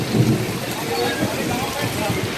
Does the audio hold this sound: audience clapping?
no